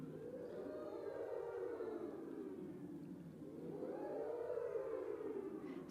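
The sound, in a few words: voices imitating a siren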